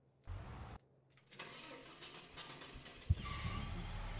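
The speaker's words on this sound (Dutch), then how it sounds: "Dan gaan we even met het autootje." In Farming Simulator 22, a small car's engine starts: a brief first crank, a pause, then the engine catches and settles into a quiet, steady idle with a small thump near the end.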